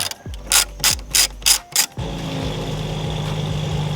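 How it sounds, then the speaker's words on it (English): A hand ratchet with an 8mm socket clicks in six quick bursts while loosening bolts on a Toyota Supra bumper, close and loud, followed by a steady low mechanical hum. "we're just gonna use an 8mm and get these two bolts off the top of the bumper."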